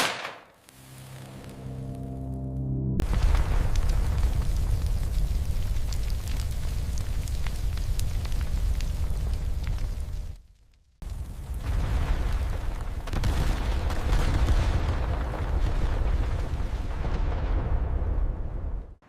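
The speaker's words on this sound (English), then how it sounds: "Then the incendiaries began to ignite." Incendiary bombs ignite into roaring fire and explosions, a sustained loud crackling rumble broken by abrupt silent cuts, with a brief low tonal drone at the start.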